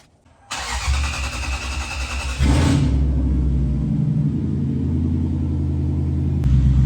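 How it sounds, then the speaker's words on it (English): A Lexus LS400 cranks and catches after a brief whir, then settles into a loud, steady idle rumble that continues for several seconds with no talking. "Cars pulled out, looking pretty sick."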